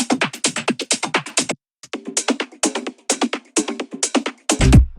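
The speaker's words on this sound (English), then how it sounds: "So the top loops sound like this on their own" Busy rhythmic percussion loop of quick, crisp hits in a repeating pattern with short pauses, played on its own without talking.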